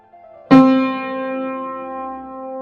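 A piano note is struck cleanly and held as a dotted half note, then a quarter note follows, the tone left ringing, sustaining and slowly fading.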